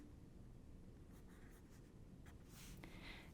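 Pencil writing on paper, faint close scratchy strokes in a few short bursts over a quiet steady background hum, with no talking.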